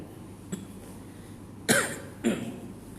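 Two short, harsh coughs close by after choking on water, following a faint earlier catch, against a quiet room background.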